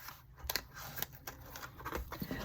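Scissors snipping around the edge of a notebook cover, with quiet, close, repeated cuts in an irregular rhythm and no talking.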